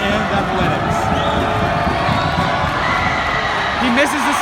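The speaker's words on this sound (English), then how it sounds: "That crowd noise really got to him." A packed gym crowd at a boys varsity basketball championship game between Wilson and St. John's roars continuously, loud and dense with cheering, whoops and shouting voices, with occasional sneaker squeaks cutting through.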